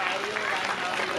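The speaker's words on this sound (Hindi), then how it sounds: "एक बार जोड़ा तालियां।" An audience claps steadily together at a Bhagavat Katha religious gathering, a short dense burst of applause filling the space without a pause.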